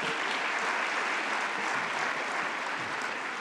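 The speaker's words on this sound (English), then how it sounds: "How about another round of applause for the guest of honor?" Audience at an Africa Health Agenda International Conference applauding the guest of honor, a dense, sustained round of clapping from a large crowd, steady and full throughout.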